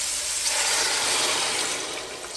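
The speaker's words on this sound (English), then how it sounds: "I'm adding some stock, salt, pepper" Stock pours into a pot of butternut squash soup as a steady, close rush of liquid lasting a couple of seconds, with no talk.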